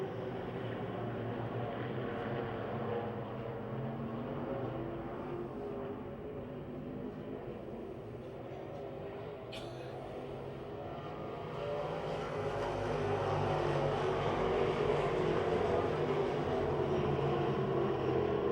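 Race cars roar around Pennsylvania Motor Speedway near Pittsburgh, a sustained droning blend of engines from the field at a distance that swells louder toward the end as the pack approaches.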